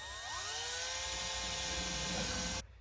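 A power drill boring holes for a billet pedal installation on a car, a steady high whine that runs continuously for a couple of seconds before cutting off abruptly.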